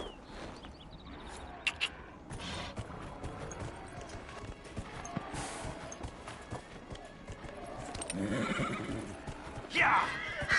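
Horse neighing in the video game Dragon Age: Inquisition, mixed with clip-clopping hooves and game ambience, with a clear whinny near the end and voices talking in the background.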